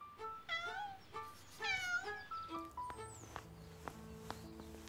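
A cat that has climbed up high meows several times in quick succession, near and clear. Scattered clicks and soft tones follow. No one speaks.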